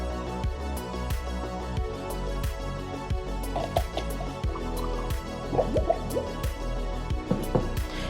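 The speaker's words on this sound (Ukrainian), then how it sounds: "вона створила глек для води, що видавав характерне булькотіння під час використання" A fish-shaped ceramic water jug of Staffordshire design, as made by Dartmouth Pottery, is poured, giving a rapid, regular series of close, hollow gurgling glugs and drips that continue throughout.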